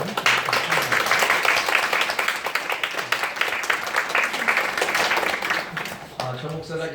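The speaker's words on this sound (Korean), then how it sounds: "그냥 그냥 박수만 일단 여러분" A church congregation claps steadily and continuously while a voice talks over the applause.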